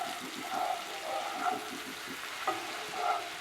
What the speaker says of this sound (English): You just want to keep stirring to make sure that you don't get a lot of burning